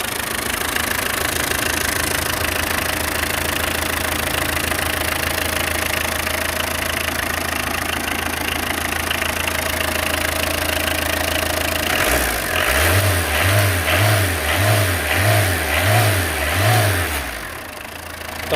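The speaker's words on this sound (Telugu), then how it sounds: "సో స్టార్టింగ్ చూడొచ్చండి, మీకు సౌండ్ అయితే ఈ విధంగా వస్తుంది." A used Tata car engine idles steadily and close, then gets a series of about five rhythmic revs before easing back down.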